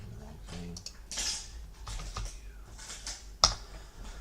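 Typing on a computer keyboard comes through as quick irregular clusters of light plastic key clicks with brief pauses and one sharper tap, fairly close and alone.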